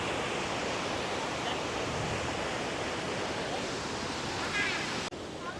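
Godavari river water rushing out through the lifted gates of a barrage at Lolla Lakulu, a steady, loud broadband roar that holds evenly throughout before dropping slightly near the end.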